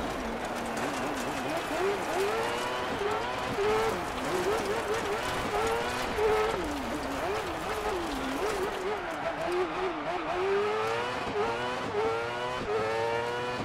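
A rallycross car tearing around a DiRT Rally 2.0 circuit, its engine steadily rising and falling through rapid gear changes and revs, loud and close throughout with no pauses.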